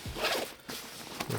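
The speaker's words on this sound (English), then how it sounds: "use that zipper after it's loaded to compress it" The zipper on a Peak Design duffle bag is pulled, a quiet close ripping zip in a couple of short strokes with no talk.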